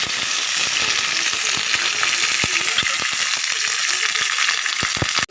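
Twelve green chillies fry in a little oil for coconut chutney, producing a loud, continuous close sizzle peppered with sharp popping crackles, with no talking.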